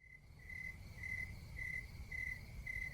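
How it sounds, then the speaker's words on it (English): A single cricket chirps in steady, evenly spaced trills over a low background rumble, fairly faint. "But crickets, the insect."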